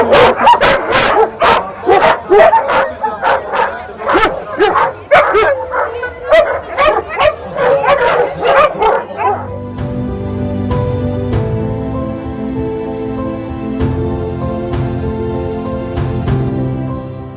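Several dogs bark excitedly at the start of a canicross race, loud rapid yips and barks close by, then give way to a steadier mixed background with a few scattered barks.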